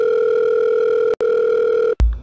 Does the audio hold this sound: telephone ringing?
yes